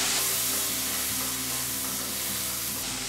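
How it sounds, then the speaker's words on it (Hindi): Frozen peas frying with spices in a pan on a gas stove turned to low, a loud, steady close sizzle with stirring throughout. "इसमें डाल देती हूँ ये मटर। मटर को 1 मिनट के लिए भून लेंगे हम"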